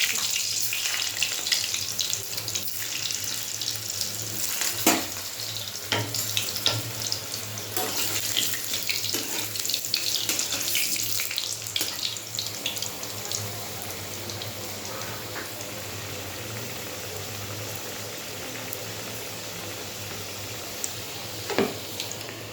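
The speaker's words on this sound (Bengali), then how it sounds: "এই যে দেখো, তেলটা গরম হয়ে গেছে। আমি আলুটা ভেজে তুলে রাখছি।" Potatoes fry in hot oil with a steady, loud sizzling hiss and scattered crackles and pops running throughout, with no talking.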